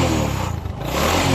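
A Honda XRM 125 motorcycle engine, worn after about 13 years and smoking heavily before a rebore, runs loud and close with a steady rough drone that dips briefly and then swells back up.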